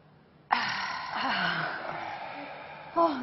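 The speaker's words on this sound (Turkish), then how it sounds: "Şimdi alıyoruz nefesimizi, derin derin alıyoruz" A deep, audible inhalation during a guided breathing exercise, a long airy breath in lasting a couple of seconds, close and clear, followed by a short second intake of breath.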